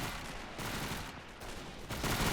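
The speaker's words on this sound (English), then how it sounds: "Lots of submachine gun fire." Submachine guns fire during a German assault on a Russian fort in the Men of War Assault Squad 2 battle at Fortress Brest. The bursts crackle dense and continuous, with overlapping rattles that are loud and close, and no voices are heard.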